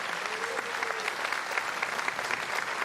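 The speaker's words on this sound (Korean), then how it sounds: "대통령께 큰 박수 환호를 보내주시기 하고 바랍니다" Supporters gathered outside a presidential inauguration ceremony applaud, a continuous distant-sounding wash of clapping with faint cheers, steady and unbroken.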